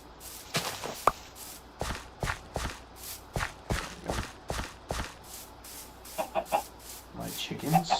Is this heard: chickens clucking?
yes